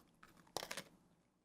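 A single crisp crunch of teeth biting into a regular Oreo cookie, close and quiet, with a faint crackle of crumbling just before and after.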